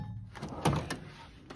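A Kincrome tool box drawer slides open with a metallic rolling rattle and a firm thunk at the end, close and fairly loud, followed by a second clunk, no voices.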